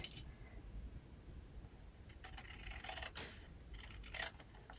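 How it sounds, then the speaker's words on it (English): Scissors trim excess paper from a journal tag in a few short, crisp snips and rustles over a quiet room. "And then cut the excess"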